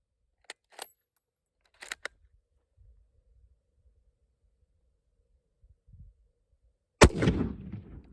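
A rifle firing Israeli surplus 8mm ammunition: one sharp, loud shot near the end with a short echoing tail, preceded by faint clicks and handling noises in an otherwise quiet outdoor setting.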